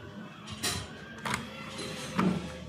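A karaoke player's freshly greased disc tray, lubricated with thin printer grease, slides open with a few soft mechanical clicks and whirs, close up and quiet against a low background hum.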